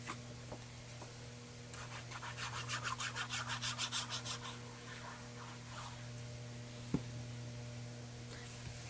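A sponge dabs ink onto white cardstock in quick rhythmic rubbing strokes, a short close-up burst of soft scratchy pats over a steady electrical hum, then quiet with a single knock.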